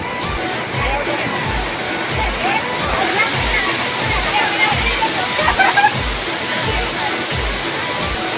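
People bathe and splash in water at Jatashankar waterfall near Bhavnath, a constant rushing roar of falling water with sloshing and splashes, joined by a low babble of voices and a near speaking voice over it.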